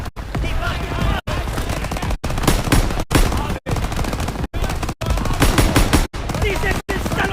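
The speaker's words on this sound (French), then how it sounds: "Détruisez ces mitrailleuses!" Rapid bursts of machine gun fire in the World War II video game Call of Duty WWII, loud and near, firing in long sustained volleys broken by several short gaps.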